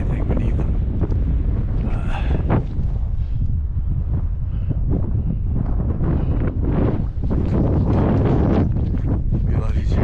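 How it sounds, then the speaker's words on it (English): Heavy, constant wind on a ridge top buffeting the microphone with a low rumble, and bursts of stronger gusts throughout, with a voice faintly under it. "It'd be a lot easier to appreciate the views if it wasn't so windy."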